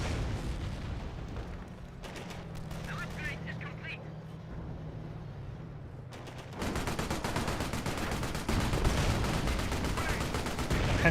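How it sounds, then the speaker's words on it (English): Vickers machine gun emplacement in Company of Heroes opens up in a dense, continuous burst of rapid shots over a steady battle din, arriving partway through and running to the end beneath a voice. "Panzer Grenadiers getting suppressed by the Vickers emplacement"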